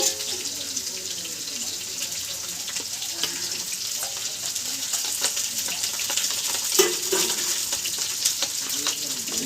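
Spiced mixture sizzling and bubbling steadily in a pan after a splash of water is added during home cooking, a constant hiss with occasional stirring scrapes, close and alone.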